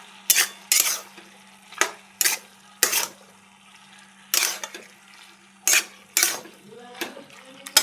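Vegetables cooked with dry mustard paste are stirred in a pan, giving a series of sharp, close scrapes and clinks of the spoon against metal over a faint steady hum, in irregular bursts with short pauses between them.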